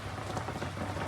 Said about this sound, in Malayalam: മഴ പെയ്തുകൊണ്ട് തന്നെ ഉള്ളത്.